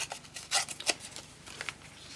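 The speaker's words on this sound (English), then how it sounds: "Let me just tear around it." Pink paper torn by hand from a die-cut sheet, several quiet, close ripping rasps in short irregular bursts, soft and papery with pauses between tears.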